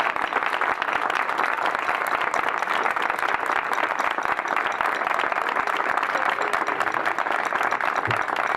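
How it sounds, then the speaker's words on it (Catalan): Audience applause at an outdoor commemorative gathering, dense steady clapping from many hands, fairly loud and continuous throughout. "volem dedicar un fort aplaudiment a Vicent Balaguer en el seu 89 aniversari"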